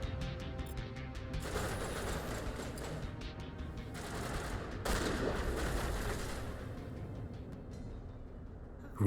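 Sustained gunfire barrage in the Mass Effect video game during the Eden Prime mission, dense rapid shots and bursts rolling continuously over about nine seconds with a swell of heavier impacts midway, loud and steady with no talk.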